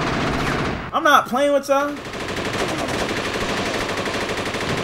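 Machine gun fire rattles steadily through the Jet Li: Rise to Honor video game, a loud continuous burst running under and after a short line of excited speech.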